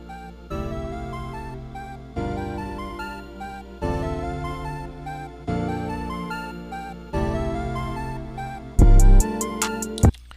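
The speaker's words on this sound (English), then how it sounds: "you hear in a lot of beats the rising intro type of sound" FL Studio trap beat, repeating bars of layered synth melody and bass that swell in volume over each phrase, then a loud hard-hitting drum section with punchy kicks and snappy hits near the end.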